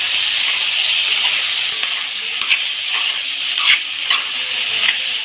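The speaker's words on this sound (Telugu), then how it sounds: "దొండకాయ టమోటా ఈ మాత్రం వేగిన తర్వాత తెల్లబాయలు వేసేసుకున్నాం ఇప్పుడు ఇంకొంచెం బాగా వేగాలి" Ivy gourd and tomato frying in a pan with added garlic, a loud, close hissing sizzle punctuated by several soft stirring scrapes.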